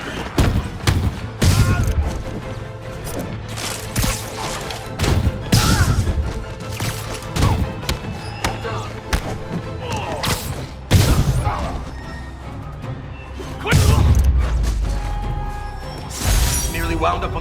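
Gunfire volleys and crashing impacts in a Spider-Man video game fight, with repeated bursts, thuds and shattering hits over a busy mix while characters shout and talk throughout.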